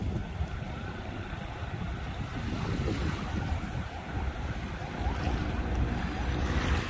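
Manila Bay waves wash ashore at Dolomite Beach as the tide rises, a steady low rushing surf mixed with wind buffeting, continuous and fairly close throughout.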